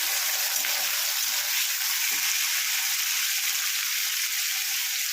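Potatoes frying in a pan of hot oil give off a steady, close, unbroken sizzle with soft crackles and faint stirring, no voices.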